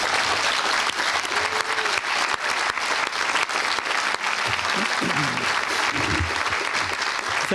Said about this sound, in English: If you can please stand and have an applause for the group.